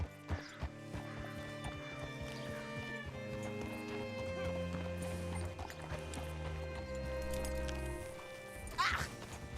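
Rhythmic horse hoof clip-clops in Red Dead Redemption 2 over a steady musical score, with a horse whinnying near the end; game ambience throughout.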